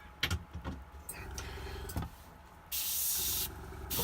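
An airbrush sprays vibrant orange ink onto a miniature Red Cap figure. A few soft clicks and handling sounds come first, then a sustained hissing burst and a shorter second burst.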